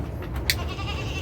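Goats on a goat farm, with a brief bleat rising out of a low, continuous farmyard background.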